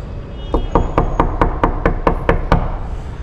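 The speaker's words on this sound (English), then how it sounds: "Maybe I'll try and knock." Knuckles knocking on a hotel door in an alleyway in Rome, about nine firm, evenly spaced raps, close and loud, with no talking.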